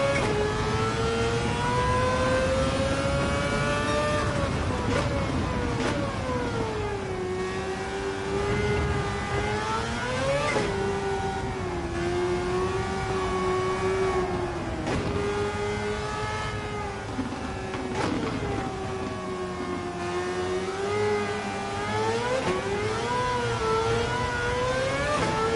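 Mazda RX-7 with an R26B four-rotor engine swap racing in Gran Turismo 7, a loud, continuous high-pitched rotary wail climbing and dropping through gear shifts and corners, with no talk over it.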